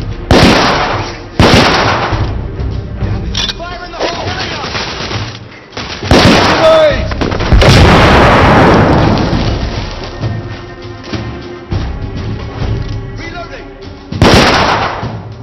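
Explosions and gunfire from the video game The Order: 1886, with a grenade blast among loud, booming bursts and crackling shots that recur across the scene, some impacts sharp and close, others rolling and sustained.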